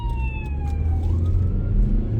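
An ambulance siren wails through traffic, its tone sweeping and sliding as it passes, heard from inside a car over a steady low engine and road rumble.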